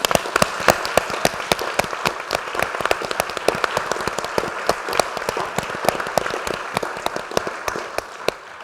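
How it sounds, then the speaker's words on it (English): Steady applause from an audience at a panel on open innovation and global AI, with many distinct hand claps in a brisk, continuous patter at moderate loudness. "They deserve our applause for respect and thanking them for their service."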